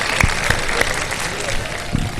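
Brief, loud applause from a studio audience on a television quiz show, dense clapping with a few sharper hits, close and continuous.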